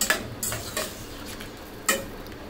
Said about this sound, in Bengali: এখন এটার সাথে ভালো মতন মিশিয়ে নিতে হবে।